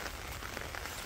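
Rain falls steadily on a Bangladeshi village in the rainy season, a dense, even hiss of drops with no break and no voices.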